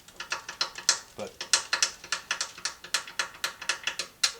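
A ratchet wrench clicks rapidly and evenly while backing out 10mm bolts on a Coleman BT200X minibike engine, a close, loud run of rhythmic pawl ticks with brief pauses between strokes.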